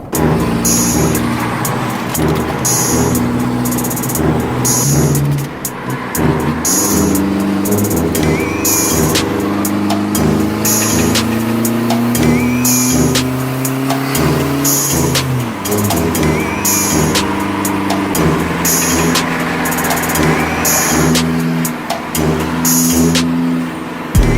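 A Ford Fiesta 1.6 diesel engine revs repeatedly, its throaty drone rising and falling loudly and close by throughout, with no talking.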